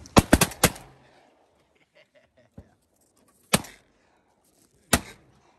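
Shotgun blasts ring out during a youth duck hunt: a fast cluster of three sharp shots, then a faint pop and two more loud single shots spaced over the following seconds, each with a short echoing tail outdoors.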